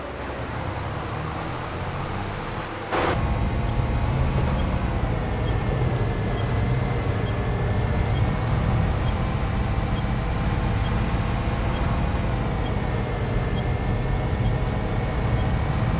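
A tractor engine in Farming Simulator 22 on a small Utah mountain farm, with a steady, continuous mechanical drone that gets slightly louder after a brief click near the start and holds an even tone throughout.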